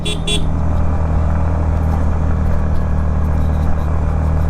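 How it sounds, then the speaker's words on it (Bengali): A CNG auto-rickshaw strains uphill on the road to Sajek Valley, a loud continuous engine drone and rumble with a couple of short horn toots at the start. "সিএনজি উঠতে পারতেছে না"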